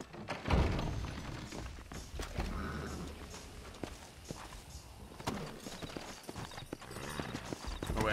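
Hooves clip-clop steadily at a walking pace amid busy Red Dead Redemption game sounds, with occasional thuds and a brief whinny in the mix.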